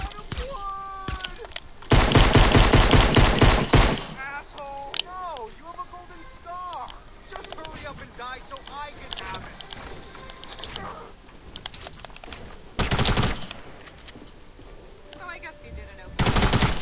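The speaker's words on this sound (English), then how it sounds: "I hate that SMG." Rapid SMG bursts in a Fortnite solo match crackle in several loud strings, with a voice talking over the action and quieter game effects between the volleys.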